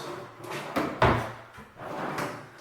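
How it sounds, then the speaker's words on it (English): Pull-out drawers on full-extension slides in a real wood Shaker wall bed pier cabinet, sliding open and shut with a few soft rolling runs and a sharper knock around the middle, close by. "As you can see, down below the 3 pull-out drawers."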